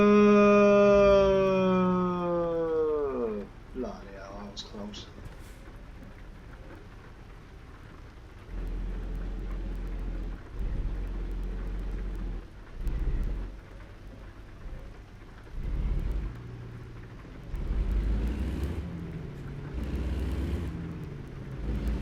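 Rain and thunder in a racing video game, with steady rainfall and deep rumbling thunder swells. A descending tonal sweep at the start gives way to low booming surges under continuous hiss.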